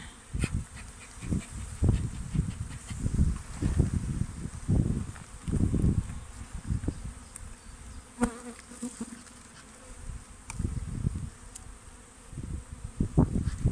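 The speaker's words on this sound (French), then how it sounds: "On est sur une ruche bien populeuse qui a déjà bien commencé son travail." Honeybees buzz steadily around an open, heavily populated hive during a spring inspection, a close continuous drone with occasional rustling and handling noises.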